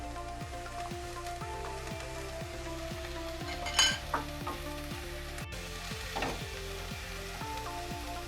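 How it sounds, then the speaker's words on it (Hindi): Chicken and capsicum sizzle steadily in a hot pan while a spoon scrapes and stirs in a regular rhythm, with a couple of louder clanks against the metal, close and with no voices. "और साथ में ही शिमला मिर्च भी इसके साथ ही मिक्स करूंगी"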